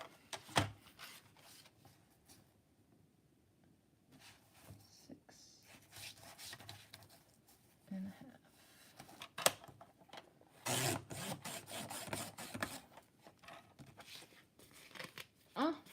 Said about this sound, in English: Let's see if it likes the Creative Memories trimmer.